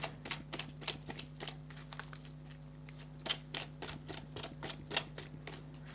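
Tarot cards are shuffled for a reading, giving quick, dry, crisp clicks and flicks in irregular bursts, close by and fairly quiet.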